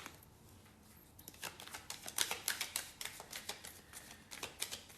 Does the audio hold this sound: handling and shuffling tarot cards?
yes